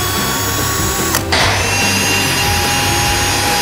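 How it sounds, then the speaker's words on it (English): A power drill whirs steadily into a piece of wood during a small woodworking project. The motor tone shifts briefly partway through as the bit bites, and the drilling stays loud and close. "I'm gonna help hold the drill straight."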